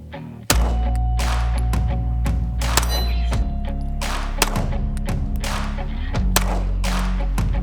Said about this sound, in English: let's put some rounds on target, and we're gonna shoot that one-handed